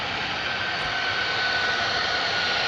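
A military jet aircraft at RAF Lakenheath roars steadily throughout, a loud broadband engine rush that holds constant with no breaks, alone without talk.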